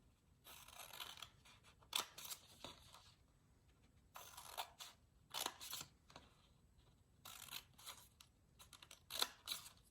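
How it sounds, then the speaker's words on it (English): Scissors cut through paper in repeated bursts of crisp snipping, close and fairly quiet, with short pauses between runs of cuts. "I'm just cutting all the way up from all my dots that I made"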